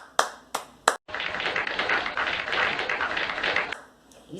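A few sharp isolated claps, a brief gap, then a short burst of dense applause lasting under three seconds before cutting off, with a couple of stray claps at the end.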